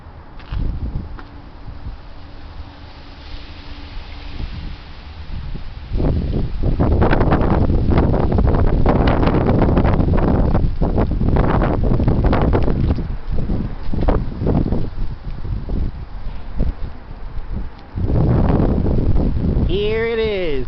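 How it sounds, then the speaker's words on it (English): Heavy wind gusts buffet the microphone in a strong, continuous rumbling roar that surges louder partway through, with rustling and brief rattles mixed in, close and loud throughout. "The heavy wind."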